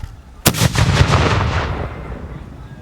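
Reenactors fire a 3-pounder cannon at a 245th anniversary commemoration of the Battle of Monmouth: one sudden, very loud boom close by, followed by a long rumbling echo that fades out over about two seconds.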